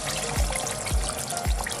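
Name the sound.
water poured into pot of lamb curry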